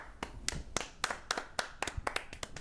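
A small group giving a round of applause, sparse individual claps ringing out in an uneven, fairly quick rhythm, close by and quiet, with no talking.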